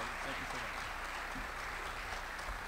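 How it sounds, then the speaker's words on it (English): An audience gives a warm round of applause for baseball player Erik Kratz: steady, even clapping that fills the room and holds level throughout, with some faint voices underneath. "let's give Erik a warm round of applause"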